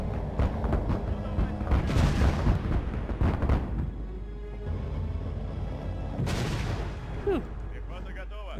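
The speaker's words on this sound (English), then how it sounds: "We got bombed again because" Bombing explosions and artillery booms in the World War II strategy game Sudden Strike 2, a dense run of loud blasts and rumbling impacts that thins out midway, then another sharp burst near the end.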